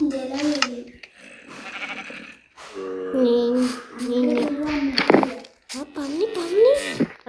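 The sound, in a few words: person imitating a goat bleating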